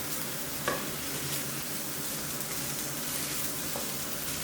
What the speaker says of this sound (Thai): จากนั้นผัดคลุกเคล้าให้เข้ากันดีครับ